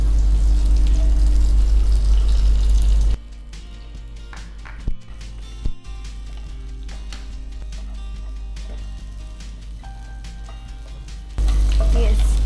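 Curry leaves hit hot refined sunflower oil meant for deep frying, giving a steady crackling sizzle that opens and closes with louder bursts, with a few sharp pops in between and no talking.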